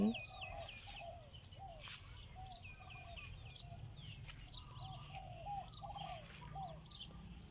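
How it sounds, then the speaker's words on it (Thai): Birds chirp and coo continuously, and a rooster crows now and then in a garden in the early morning. The sound is distant and fairly quiet, with a low rumbling background and no talking. "เสียงนกร้องเสียงไก่ขัน"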